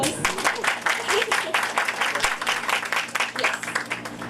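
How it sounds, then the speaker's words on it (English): Audience applause at a Bollywood book launch event, a dense wash of many hands clapping steadily for several seconds, with some voices mixed into the crowd. "Can you please have a round of applause?"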